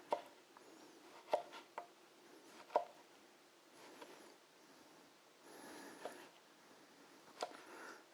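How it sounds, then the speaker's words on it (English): A knife slices through rested ribeye steak on a cutting board, giving faint, sparse taps and soft cuts at irregular intervals, close and quiet, with no talk. "So let's slice this up"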